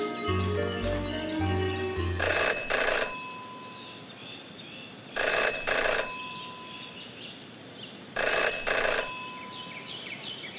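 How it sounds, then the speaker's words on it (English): An old-fashioned telephone bell rings in the video game Jenny LeClue, three loud bursts spaced about three seconds apart, following a brief low musical passage. "In her short time as a detective, Jenny had learned never to ignore a ringing phone."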